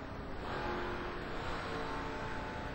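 Race trucks roaring around the track at the Texas 250, a dense, continuous engine drone of a close pack at speed, loud and steady with no talk over it.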